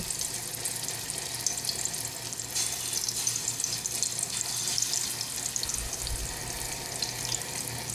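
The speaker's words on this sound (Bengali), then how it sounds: "তেল গরম হয়ে আছে এখন মাছ দিতেছি" Pangas fish going into hot oil in a cooking pot, a continuous close, hissing sizzle that stays even and fairly loud throughout, with no talking.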